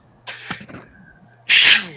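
A man sneezes loudly up close, a short wind-up of breathy sounds followed by one sharp, explosive burst.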